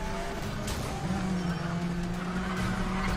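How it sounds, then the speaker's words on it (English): Car drifting in the racing game Need for Speed: The Run, with a loud, steady engine drone and sustained tire squeal running through the whole stretch. "Stop drifting, yo."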